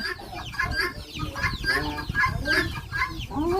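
Chickens and a turkey cluck on a farm, a close, busy run of repeated clucks and squawks overlapping with one another.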